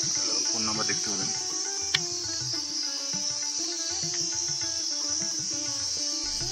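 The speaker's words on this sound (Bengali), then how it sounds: "পিছনে চলছে ঝিঝি পোকার ঝিঝি ঝিঝি আওয়াজ, যা রেকর্ডিংয়ে কিন্তু স্পষ্ট" Crickets chirr steadily at a tea garden homestay in Gopaldhara near Darjeeling, a constant high, shrill drone running throughout, with fainter background sounds moving beneath it.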